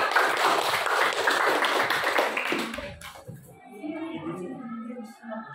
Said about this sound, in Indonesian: Jadi tepuk tangan dulu untuk kelompok 4, ya.